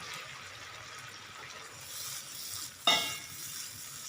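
A yogurt masala with potatoes and black-eyed peas is stirred in a pan, giving a soft, steady sizzle with one sharper scrape of the spoon near the end.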